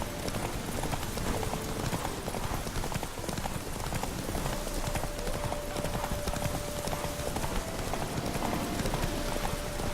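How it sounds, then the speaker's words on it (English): Roach the horse from The Witcher 3: Wild Hunt trots along with steady, continuous clip-clopping hooves, close and even throughout, with no talking. "Come on, it's Roach! My fucking hero horse."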